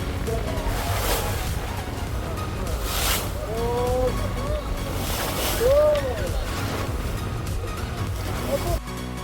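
A boat engine rumbles steadily over wind and open-sea wash near Minicoy, Lakshadweep, with a voice speaking briefly partway through.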